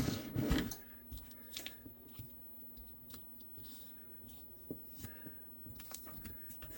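Scissors snip holster material with small scattered clicks and cuts, close and fairly quiet, after a louder handling rustle at the start.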